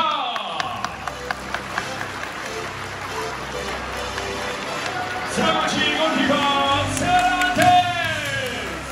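Applause from an audience at a football club's New Year fan event, a few distinct claps at first, then a swelling crowd clapping with music rising underneath as players are welcomed onto a stage.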